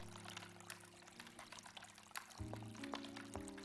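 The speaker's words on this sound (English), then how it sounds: "What a beautiful fountain. It even has holographic fish emitters at the bottom." Water splashing and pouring steadily in an ornate fountain with holographic fish emitters at its base, set in a futuristic video game, heard near and continuous with faint electronic hums layered underneath.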